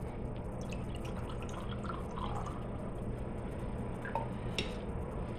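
Liquid Ice Blue energy drink is poured into a clear glass, with soft, quiet trickling and a few faint drips and splashes over low background noise.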